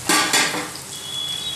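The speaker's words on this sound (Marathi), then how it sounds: "शेंगदाणे एकत्र छान परतून घ्यायचे." Onion, chillies, mustard seeds, cumin and peanuts sauté in a pan for kande pohe, a close, bright sizzle with a couple of quick stirring scrapes at the start.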